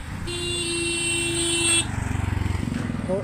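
Traffic on the main road at Mandarmani, with a long, loud vehicle horn blast followed by the close, pulsing rumble of a passing motorcycle engine and a brief chirp at the end.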